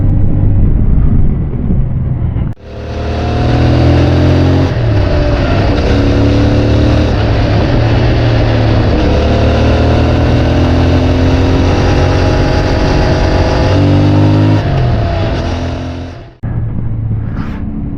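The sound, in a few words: CFMoto 450MT motorcycle engine revving on test ride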